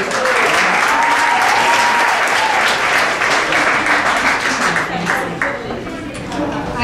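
Loud, sustained audience applause at a live singing performance, many hands clapping continuously and close, with crowd chatter and cheering mixed in before it begins to thin near the end.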